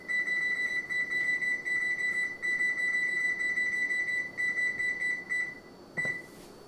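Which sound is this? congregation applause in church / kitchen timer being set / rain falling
kitchen timer being set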